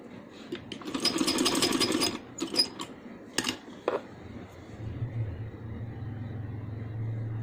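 A sewing machine stitches a folded seam on a handmade baby boy's dress, running in bursts of rapid mechanical rattling that stop and restart, then giving way to a steadier low hum.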